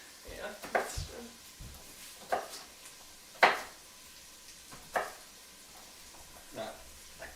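Onions are chopped with a knife on a board in a home kitchen, giving irregular sharp thuds spaced a second or so apart, with occasional voices talking in the background.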